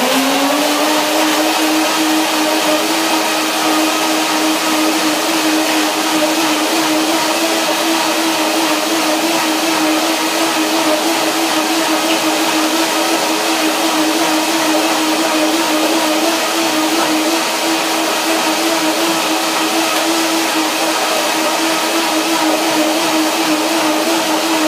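Blender whirring steadily as it blends hemp hazelnut cream, a raw vegan mix, for a full continuous stretch at close range with a constant motor whine and no talking.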